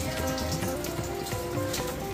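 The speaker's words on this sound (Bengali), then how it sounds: "আর কত বৃষ্টি পড়ছে দেখুন, এই দেখুন সারাদিন আজ অনবরত বৃষ্টি" Heavy rain falls all day without pause, giving a steady, dense patter of drops on surfaces that stays loud and even throughout.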